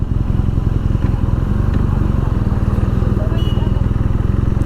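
A BMW R nineT Scrambler motorcycle rides along a city road, its engine giving a steady, close, thumping drone throughout, with no breaks in the sound.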